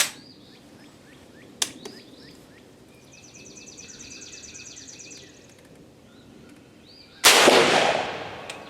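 A rifle fires a converted 50-70 shotshell cartridge once, a single loud, sharp blast near the end that trails off, after a quiet stretch with a faint click and distant birdsong.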